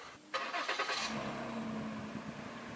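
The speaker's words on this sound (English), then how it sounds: "I know y'all were just itching to hear that cold startup" A 2016 Lincoln MKZ cold-starts: a short starter crank, then the engine catches with a quick rev flare before settling into a steady, fairly quiet idle, close by.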